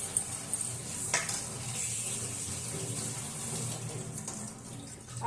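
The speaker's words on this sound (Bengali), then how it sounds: "এই সব সবজিগুলোকে একে একে আমি ধুয়ে নিচ্ছি।" Chopped vegetables washed under a running kitchen tap, a steady close hiss of flowing water with a few brief splashes and clatters.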